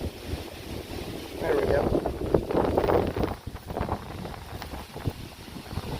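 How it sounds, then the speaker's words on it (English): Strong gusty wind buffets the microphone outdoors during freshwater panfishing for sunfish and bass, a steady roar that swells loudly in the middle and then eases, with a brief spoken remark over it. "It's kind of a pain to fish in all this wind"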